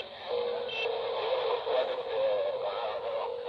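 CB radio receiving while hopping channels, steady band-limited static and a garbled, distant-sounding transmission bleeding through for the whole stretch.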